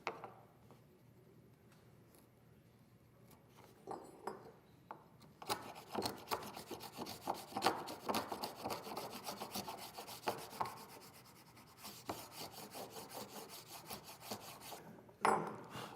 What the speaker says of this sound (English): When you use a chisel to remove the waste part, you have to sharpen the chisel.